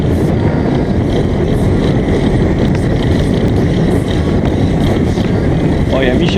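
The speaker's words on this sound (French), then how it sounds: "là il y a beaucoup de vent quand même" Strong wind buffets a cyclist's microphone on a road ride, a continuous loud low roar covering everything, with a rider's voice speaking beneath it.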